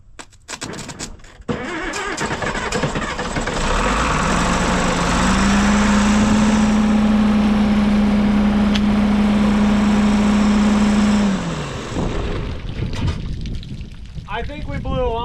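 An International Harvester 1026 Hydro tractor, long left in the weeds, cranks and catches, then roars loudly with a steady droning run for several seconds before dropping back, with people talking around it.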